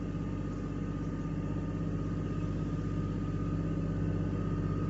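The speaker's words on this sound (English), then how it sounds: "we have this little trail cleared out here for the tractor" Tractor engine driving along a cleared woodland trail, a steady low rumbling drone with a constant hum, close and unbroken throughout.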